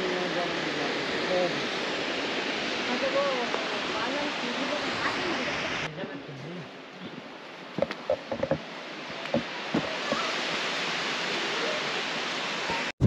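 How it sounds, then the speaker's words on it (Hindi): Water pours over a dam spillway in rural Rajasthan. Its loud, continuous rush fills the first half, drops to a quieter stretch with scattered knocks, and then swells again. "दिस इज द स्पिलवे, पानी यहीं से ओवरफ्लो करके भागता है वापस।"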